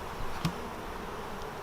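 Honey bees in a hive colony hum in a dense, steady drone at close range, with one sharper buzz of a single bee passing near the start.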